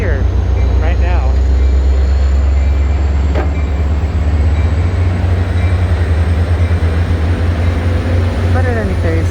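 A loud non-electric train rumbles along the railway close by, a heavy, continuous low roar with occasional squeals of metal.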